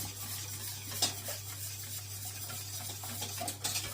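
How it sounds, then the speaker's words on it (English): Warm milk mixture stirred in a pot on a switched-off electric flat top, the spoon scraping and clinking against the pot in uneven strokes over a quiet hum, with a couple of sharper knocks. "But what I'm doing is I'm stirring this all back in."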